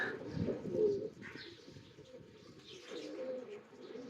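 Teddy king pigeons from a line-breeding pair coo steadily at close range, a low throaty rolling sound repeating over a quieter background of other birds and light chirps.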